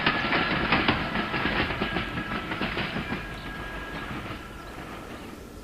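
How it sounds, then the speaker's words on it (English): A train rolls steadily along a railway line beside a canal, its wheels clattering in a rhythmic clickety-clack at moderate distance, gradually fading as it passes. "Leaving Denton Halt, the train now crosses and runs beside the Thames and Medway Canal"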